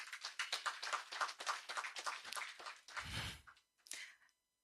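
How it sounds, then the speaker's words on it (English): Audience at an energy group event clapping for a panelist, a brief burst of scattered applause heard from a distance and fairly quiet, trailing off into a few last claps. "Please, a round of applause, people."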